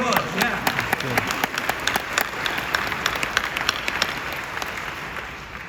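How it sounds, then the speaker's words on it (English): An audience applauds a team of graduates who won a competition, a dense, steady round of clapping with crisp individual claps, and a voice speaks over it. "give them a round of applause"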